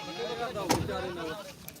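A goat bleats once at a busy goat market, a short nasal cry in the middle, with people talking around it.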